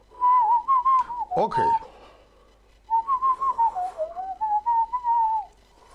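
A person whistles using a stick held in the mouth in place of a finger, producing a loud, clear warbling tone in two long phrases with a short break, close up; one brief spoken word sits in the gap.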